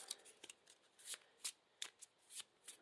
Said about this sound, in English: And we're going to shuffle in our obligation.